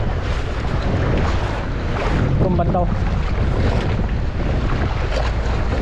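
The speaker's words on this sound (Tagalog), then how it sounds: "Mahangin lang po." Wind gusts loudly over a fishing boat at sea, a continuous rushing roar with waves and hull noise; a voice speaks briefly near the middle.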